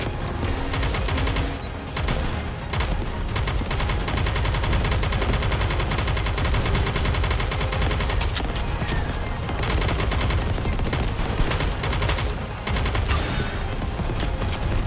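Sustained automatic gunfire in the Nikke game, rapid rattling bursts that run almost without pause, loud and close.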